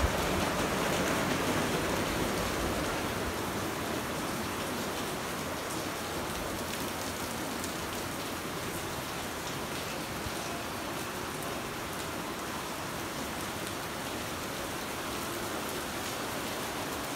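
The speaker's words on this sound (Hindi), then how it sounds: "सो गाइस बारिश फास्ट हो गई है" Heavy rain pours down steadily, a dense, continuous hiss of drops hitting surfaces, loud and unbroken with no voices.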